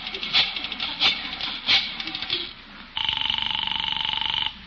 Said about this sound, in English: It's ringing, Peavy.